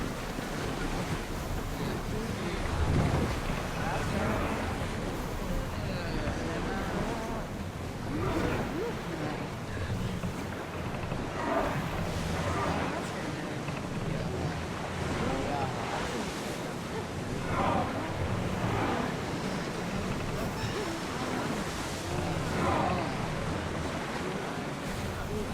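Ship sailing on open sea in Assassin's Creed Odyssey, a steady rolling wash of waves and wind that swells and eases throughout, with faint voices now and then.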